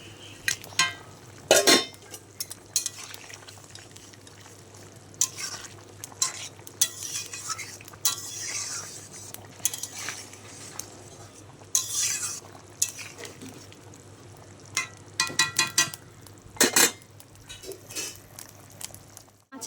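A pot of thin fish broth with potato and green banana, fish added as it boils: close bubbling and sizzling with repeated clinks and scrapes of a spoon against the pot, no voices.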